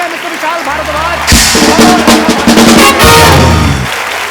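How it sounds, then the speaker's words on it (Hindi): A studio audience on The Kapil Sharma Show bursts into loud applause for Vishal and Rekha Bharadwaj, the clapping arriving in two strong swells over loud, steady band music. "जोरदार तालियां"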